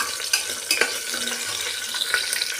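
Ingredients for a kodo millet breakfast fry in a pan, a bright, steady sizzle with occasional spatula scrapes and clinks, close and fairly loud.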